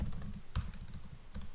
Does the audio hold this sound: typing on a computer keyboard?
yes